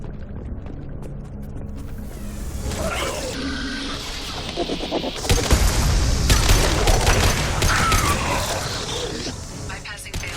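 Battle gunfire in the video game Mass Effect 2, rattling weapon bursts and impacts building up midway, mixed with a voice speaking and grunts amid machinery noise.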